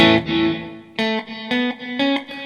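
Electric guitar through reverb with a very short pre-delay, the wash blooming right on each note: a sustained chord then several ringing picked notes, each decaying into a soft tail.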